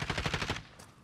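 Call of Duty machine-gun fire rattles in a quick burst of about eight evenly spaced shots, loud and close, then cuts off into a fading tail.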